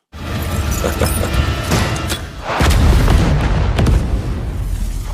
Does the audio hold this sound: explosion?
yes